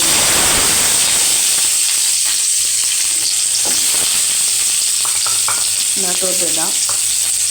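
Chopped onion tossed into hot oil in a pan for a Kerala fish curry, giving a loud, steady close-up sizzle and hiss with stirring scrapes, as a voice speaks briefly over it.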